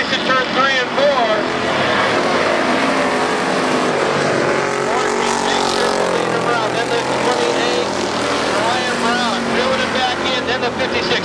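Street stock cars racing through turns three and four at Barona Speedway, a steady loud roar of several engines blending together throughout, with a commentator talking over it.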